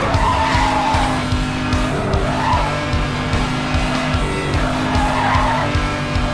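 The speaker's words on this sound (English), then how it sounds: "We don't need to drift hard, we just have to drift slightly." In the Need for Speed Hot Pursuit Remastered racing game on PS5, a car drifts with loud, sustained tire squeal and skidding over a roaring engine, close and continuous.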